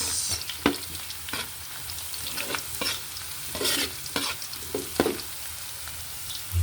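Garlic and onion sauté in a pan toward golden brown, a soft continuous sizzle broken by repeated sharp spatula scrapes and stirring knocks at irregular intervals, nothing spoken.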